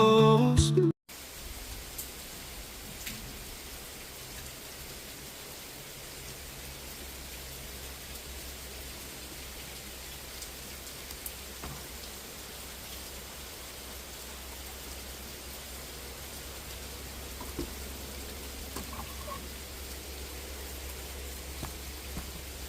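Steady rain falls on an Arkansas Friday morning, a soft, even hiss that continues unbroken for about twenty seconds after a brief louder sound at the start.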